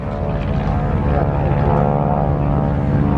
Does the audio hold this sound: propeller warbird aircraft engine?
yes